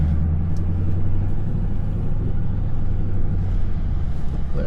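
A 12-year-old Mustang GT engine rumbles steadily from start to finish, a loud, low, constant drone as though from inside the moving car, with no voices.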